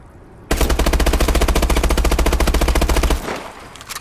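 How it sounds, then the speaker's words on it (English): Bal 27 assault rifle emptying a full magazine in Advanced Warfare, a loud rapid unbroken burst of about three seconds with even evenly spaced shots, then a short fading tail and a few faint clicks. "we're going to shoot a full magazine of the gun with no foregrip or anything attached to it"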